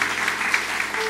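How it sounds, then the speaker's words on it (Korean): Congregation applause fills a church at the close of a worship service, a steady, dense patter of many hands clapping together that holds evenly throughout without any speech. "우리 예배를 받으신 하나님께 감사와 영광의 박수 한번 올려드리기 원합니다"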